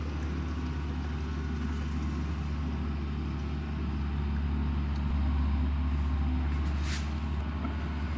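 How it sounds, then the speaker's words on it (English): A garden tiller churns soil some distance off, a steady low engine drone running unbroken beneath the scene with no talking. "you can probably hear my husband tilling in the background"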